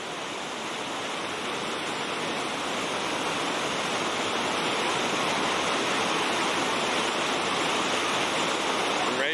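River rapids on a whitewater run: a loud, constant broadband rush of churning water, steady and close throughout, with no voices on top.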